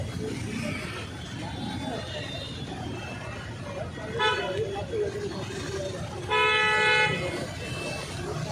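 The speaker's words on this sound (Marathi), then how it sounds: "हे ट्रॅफिक बघा आज किती आहे" Busy road traffic after rain rumbles along with a short horn toot and then a longer honk, while people chatter nearby.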